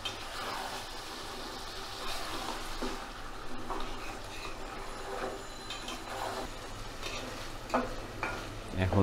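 Beef curry is being sautéed in a pot as the oil separates, with a low, steady bubbling sizzle and intermittent stirring scrapes, fairly quiet throughout.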